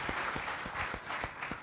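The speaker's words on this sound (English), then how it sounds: "a big round of applause to what he's built" Audience applause after a round-of-applause call at a fireside chat with the founder of Ola, a steady broadband patter of many hands clapping for under two seconds with no talk over it.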